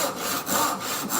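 Hand saw cutting wood for a mortise and tenon joint, with steady back-and-forth rasping strokes, about four rhythmic passes, close and moderately quiet with no talk.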